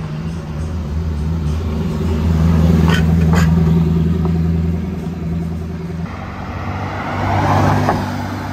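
Gumpert Apollo supercar passing at Top Marques Monaco, a deep engine rumble swelling as it nears and then fading, followed by another engine swell at the end amid street ambience.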